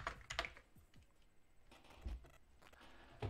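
Rapid clicking of keys on an Amiga computer keyboard, quiet and nearby, in irregular bursts with brief pauses.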